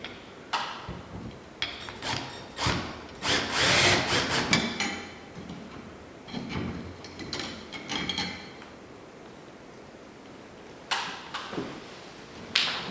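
A power drill drives screws to fasten a cover plate onto a bracket in a home electrical job, heard as short whirring bursts mixed with clicks and knocks, close by, without speech.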